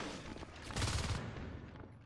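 Shotgun fire in the video game Natural Selection 2: a dense burst of blasts swells around the one-second mark over steady background gunfire, fairly loud, with no talking.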